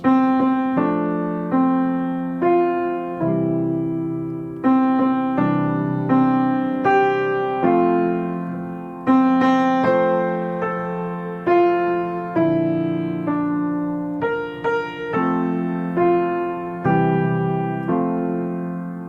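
A solo piano plays the slow Happy Birthday melody over full, rich chords, each struck and left to ring before the next, in an even unhurried rhythm.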